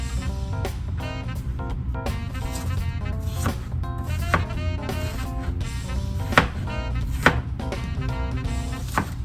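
A knife chops an onion into small pieces on a cutting board, a fast, steady run of close taps with a few louder knocks, over a faint background hum.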